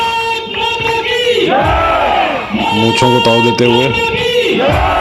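A crowd at the border retreat ceremony at Suchetgarh, R.S. Pura, Jammu, lets out loud sustained hooting and cheering in swelling waves, with someone speaking over the noise.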